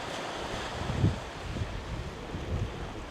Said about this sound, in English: Any point now there could be one of those waves that just comes up